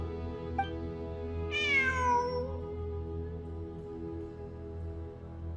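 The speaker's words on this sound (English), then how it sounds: "I'm not hearing things. It really is a cat." A cat in the Genshin Impact desert of Sumeru meows once in a long, falling, whiny call that stands out clearly over a steady low hum of game ambience and music, with no voices.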